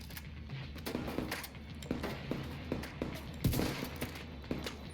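Rapid bursts of gunfire in the shooter video game The Division 2 keep up an uneven string of thuds and cracks at moderate volume, with no talk over them.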